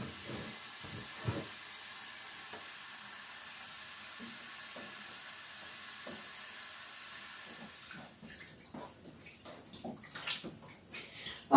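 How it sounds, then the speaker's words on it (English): Tap water filling pots of vegetables at a kitchen sink, a faint steady hiss of running water with occasional soft clinks, growing into busier splashing and knocks near the end. "And then I'm going to take everything to the sink and just fill it up so everything's nice and covered."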